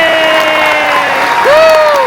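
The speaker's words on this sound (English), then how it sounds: "big round of applause and thanks" Audience applause at a Destination D23 Disney Family Legacy event, a steady wash of clapping from a large crowd with a couple of rising whoops and cheers riding on top.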